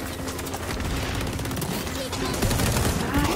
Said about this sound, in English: I just shoot blindly into the air